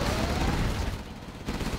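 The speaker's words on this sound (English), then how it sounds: "Gun barrel spinning." Gatling gun fire from the C&C Generals Zero Hour strategy game: a dense, continuous roar of rapid shots that briefly thins and then resumes, loud and close, with no talk.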